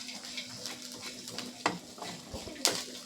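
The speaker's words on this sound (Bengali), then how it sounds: "কসুরি মেথিটা কিন্তু এর সঙ্গে দিয়ে দেব, দিয়ে আবার একটু নাড়াচাড়া করে ভেজে নেব।" Lentil dumplings (bori) with kasuri methi are stirred and fried in a pan alongside spinach, giving a steady soft sizzle with scraping stirs and two sharper utensil knocks, close and moderately quiet.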